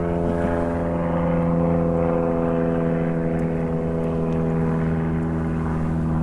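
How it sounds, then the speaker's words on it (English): Propeller airplanes pass overhead with a steady, loud droning hum that fills the whole stretch, heard from a waterfowl hunting blind in Washington with no talking. "sorry about the planes coming over"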